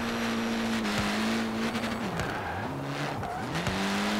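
A car drifting in Forza Horizon 4, with a loud engine note rising and dropping through gear changes while tires squeal and skid in repeated slides, close and continuous.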